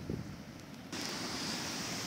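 Surf rolls onto Jabula Beach at St Lucia in a steady wash of breaking ocean waves, heard from the shore with a soft wind hiss and a brief swell in loudness partway through.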